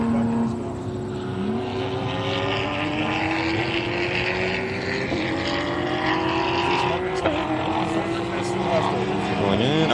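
Porsche Boxster race car at an SCCA race, its engine droning steadily throughout with rising and falling pitch as it passes, mixed with other engine noise and some crowd or voice sound in the background.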